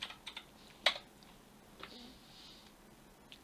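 A few scattered keystrokes on a computer keyboard as a command is typed, with one sharper key press standing out among light clicks, faint and close, no talking.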